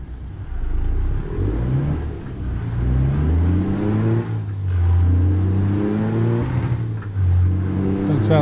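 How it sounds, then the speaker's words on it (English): A heavy Cat diesel truck engine in American Truck Simulator revs up and holds a loud, steady drone with rising and falling pitch, alone with no talk. "It sounds nice revving up."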